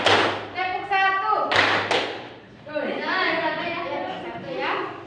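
Children clapping together in a classroom counting game, short sharp bursts of claps between a teacher's calls and the children's sung or chanted replies, close and lively.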